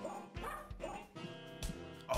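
Dogs in the video game WizardChess bark and yip in quick, overlapping bursts, loud and close, with some whimpering mixed into the game audio.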